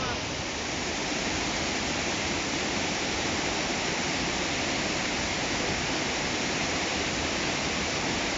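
Waterfall at Curi roars as a steady, loud, unbroken rush of falling water that fills the whole scene without pause.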